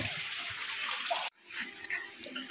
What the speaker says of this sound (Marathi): इथूनच हे जे पाणी वाहत आहे हे अतिशय शुद्ध आहे